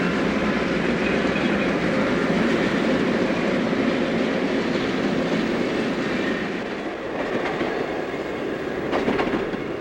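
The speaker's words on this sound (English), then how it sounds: "We find the Baltimore and Ohio's eastbound Capital Limited rounding the curve and slowing to move onto the Rock Island tracks." The Baltimore and Ohio eastbound Capital Limited passenger train in the 1960s, rounding a curve and slowing onto the Rock Island tracks: a loud steady rumble of wheels and cars with rhythmic clacking and faint squeal.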